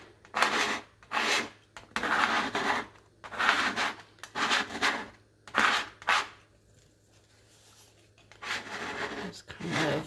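A scraper is dragged across a Cricut cutting mat in a series of rasping strokes, about eight separate scrapes with short pauses between them, close and fairly loud.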